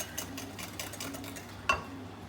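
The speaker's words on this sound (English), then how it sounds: "They go in with the egg yolks. Give them a bit of a mix." Sugar being mixed into egg yolks for crème brûlée, a quick run of close, light scraping strokes in a bowl with one sharper clink near the end.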